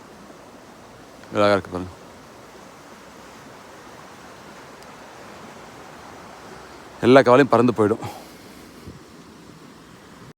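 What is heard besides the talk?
flowing stream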